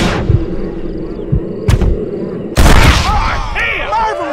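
Gunfire in the western video game Red Dead Redemption, several loud, sharp shots spaced across a few seconds followed by a heavy booming burst, with a voice shouting over the noise.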